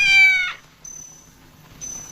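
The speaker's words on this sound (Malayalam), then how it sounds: "It's A kitten." A kitten gives one clear, fairly loud meow, then two thinner, fainter high cries follow after short pauses, with no talk around them.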